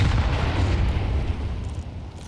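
A grenade explodes during a professional Counter-Strike match, with a loud, broad blast that rumbles and slowly fades without any voices.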